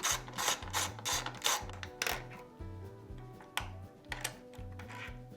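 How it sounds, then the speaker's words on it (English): A ratchet with a 10mm socket removes the taillight bolts on a Honda XR150L, giving quiet, rapid clicking in a steady back-and-forth rhythm, with a brief pause partway through before clicking resumes. "Now remove the 2 bolts holding on the taillight with your 10mm socket"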